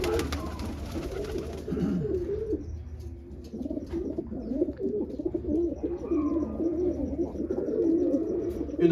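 Pigeons kept in a loft coo in soft, overlapping rolling calls throughout, fairly close and steady, with faint chirps among them and no talk.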